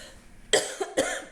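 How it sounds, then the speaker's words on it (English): Two sharp coughs in quick succession, close and loud, with a brief pause between them. "Guys, I'm so sorry about this cough."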